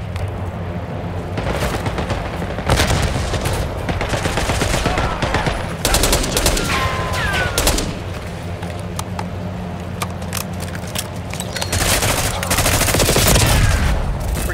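Gunfire in Call of Duty Black Ops 6 fills the whole stretch, with dense automatic bursts and heavy booming shots layered over a constant din of combat, swelling louder in several waves.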